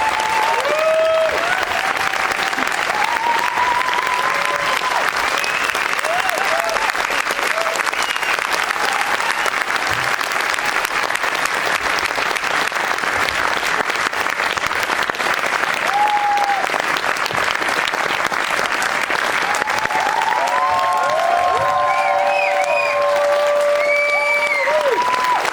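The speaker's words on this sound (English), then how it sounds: "Stand and give a big round of applause again for Dee Smith" A large festival audience applauds and cheers as director Dee Smith of Kokomo City is welcomed to the stage at a Berlinale Q&A, dense continuous clapping with whoops rising above it, loud throughout.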